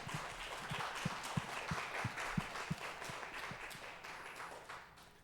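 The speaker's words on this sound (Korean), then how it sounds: "우리 한번 졸업 연주회 잘했으니까 박수 한번 해주시면" A church congregation applauds a cello graduation recital during a Sunday service, with steady, moderately distant clapping that holds for several seconds and slowly fades.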